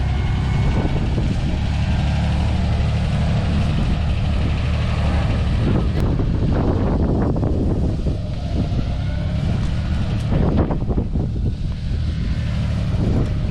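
A 1990 Dodge D150 pickup idles steadily in the open with a low rumbling drone under wind noise, and a few brief clunks come near the middle.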